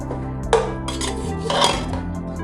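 Metal pots and lids clatter and clink on a kitchen stove as a pressure cooker holding namkeen gosht is opened, two sharp clanks standing out over a steady background hum, with no voices.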